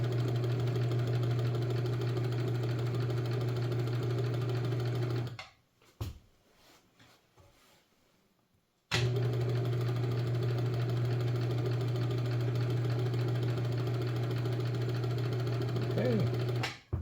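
An Elna Lotus sewing machine, bought new in 1975, stitches zigzag with a loud, close, steady mechanical hum and rattle, stops for about three seconds amid faint handling sounds, then runs again evenly to the end.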